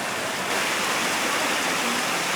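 Rushing water from a waterfall and stream on a rainy camping trek in Tanay, a dense, steady hiss and roar, close and loud, with no voices.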